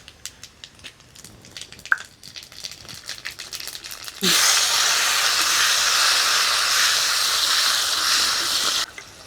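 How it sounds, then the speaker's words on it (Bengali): Cumin seeds and garam masala hit hot oil and burst into a loud, steady sizzle that begins abruptly and holds for several seconds. Faint crackles come before it, and the sizzle ends sharply. "এবারে ওই তেলের মধ্যে দিয়ে দিব কিছুটা জিরা ফোড়ন"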